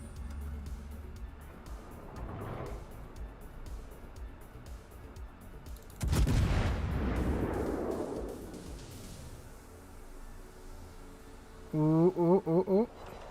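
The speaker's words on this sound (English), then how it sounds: "this looks like a much better salvo" Naval gun salvo in the World of Warships video game: a heavy booming blast around the middle with a long rumbling decay over ocean ambience, followed near the end by a quick series of sharp tonal bursts.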